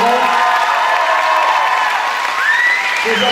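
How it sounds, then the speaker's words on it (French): An audience at the opening of the Miss Ronde Aquitaine 2013 show applauds loudly and continuously, with dense clapping, crowd noise and rising cheers and whoops from many people close by. "Je vous demande de bien vouloir les accueillir avec beaucoup d'applaudissements et beaucoup de bruit"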